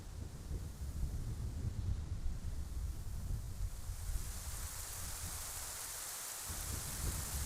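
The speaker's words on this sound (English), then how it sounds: "Don't leave me out here in the storm." A rainstorm with thunder in the video game Zelda Ocarina of Time, a steady roar of heavy rain with low rumbling that hisses brighter toward the end, with no voices.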